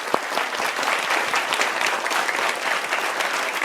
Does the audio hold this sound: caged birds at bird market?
no